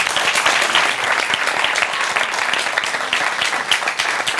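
Audience applauding a band, continuous loud clapping from a crowd, steady and close throughout with no pauses.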